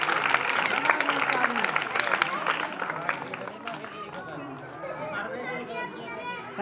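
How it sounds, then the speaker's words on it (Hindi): Applause and excited chatter from a crowd, many of them children, at a Sindhi magic show: a busy burst of clapping mixed with voices that fades after a few seconds into scattered talk and children's chatter. "क्लैपिंग तालियों जबरदस्त तालियों"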